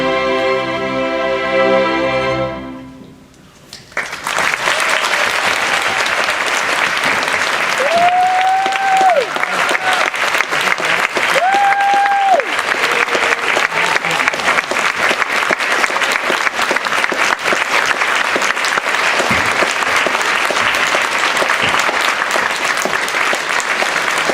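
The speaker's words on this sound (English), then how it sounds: "Big round of applause for them, please." Enthusiastic applause from a large concert audience after a Christmas Carol music performance, dense continuous clapping that swells after a short quiet start and carries on steadily.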